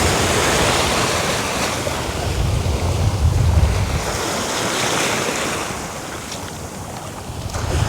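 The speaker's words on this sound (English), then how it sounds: "These waves aren't bad when they're getting to the shore here" Ocean waves breaking on the shore at a Bonaire shore dive entry, a loud steady wash of surf with a heavier rumbling surge midway, under gusty wind buffeting the microphone.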